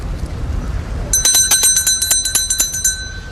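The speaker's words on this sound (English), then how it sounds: "In Hinduism, we often hear the bell, and the bell is connected with the word Om." A small metal bell at a Hindu shrine to Ganesha in Panauti ghat, Nepal, rung in a rapid series of bright clangs that start about a second in and keep ringing close and loud over soft background noise.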